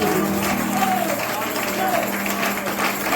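A church congregation at a Sunday ordination service applauds and acclaims in a continuous dense roar of clapping and crowd noise, with voices calling out over it.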